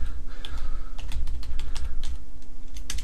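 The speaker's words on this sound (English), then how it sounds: "So we'll go to bankofamerica.com and we can type it manually" A web address is typed manually on a computer keyboard, with rapid, close clicking keystrokes in an irregular rhythm over a steady low hum.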